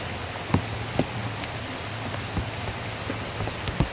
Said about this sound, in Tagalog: Mahina na yung ulan.